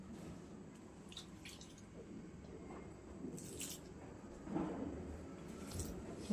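Water poured onto sifted flour and worked in by hand for a stiff karanji dough, giving soft wet squishes and small drips, quiet and close, with a slightly louder squelch near the end.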